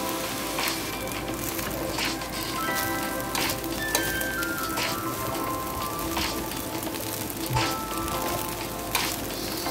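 Ham fried rice sizzling in a pan while being stirred, a continuous crackling fry broken by scraping spatula strokes, close and fairly quiet.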